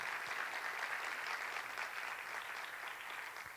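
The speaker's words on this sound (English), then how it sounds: "Give her a big round of applause" Steady applause from a large audience at a women's leadership forum, a dense continuous wash of clapping heard from a distance that tapers off slightly toward the end.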